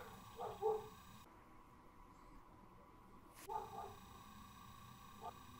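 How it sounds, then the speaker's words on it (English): Dogs barking somewhere outside, a few short faint yips and barks in scattered bursts, distant and quiet against steady background hiss. "these dogs are going at it today."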